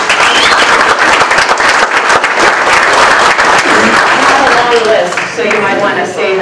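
Loud, dense clapping fills a room at a community visioning workshop, a steady burst of applause from the audience that thins out toward the end, with speech running underneath.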